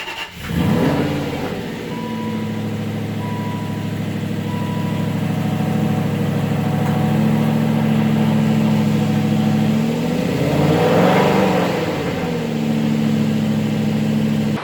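A car engine starts after the battery has been refitted and then idles steadily at close range, with a brief rev and settle near the end and no talking.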